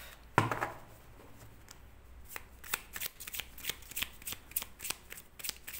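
Tarot cards shuffled and laid out by hand, with an opening riffle burst followed by a run of quick, crisp slaps and flicks as cards are dealt onto a surface, close and fairly quiet.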